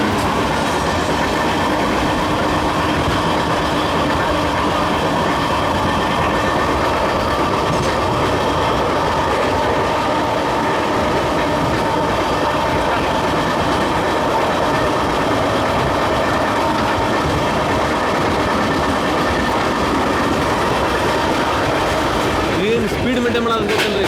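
The Tirupati to Bengaluru Intercity superfast express, train 22617 with brand new LHB coaches, runs on rails with a loud, continuous close rumble and steady clickety-clack. Someone talks over the noise.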